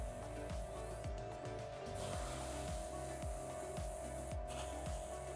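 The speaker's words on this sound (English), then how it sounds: "So I'm gonna just spray the whole thing black." An airbrush sprays black paint in a continuous close hiss, with a steady background hum and ticking underneath.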